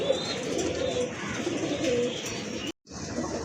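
Rare collector's pigeons in a loft collection coo under a continuous murmur of nearby room noise, low rolling calls blended into the background before a brief cut.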